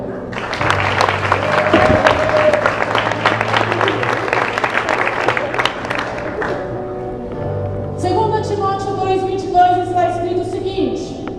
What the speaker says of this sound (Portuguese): Aplauda ela,